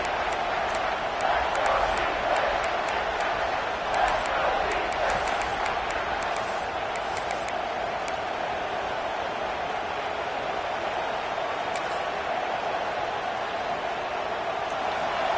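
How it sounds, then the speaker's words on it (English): A Clemson football stadium crowd roars to inspire the defense before a red zone stop: a broad, steady wash of distant cheering with faint high whistles and shouts rising now and then. "This crowd is trying to inspire this defense to make a big red zone stop"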